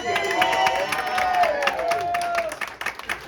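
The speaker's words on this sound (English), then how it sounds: "So everybody give a round of applause." Applause from a small audience at a stand-up comedy show in a Seattle venue, lively clapping with a few whoops, thinning out toward the end.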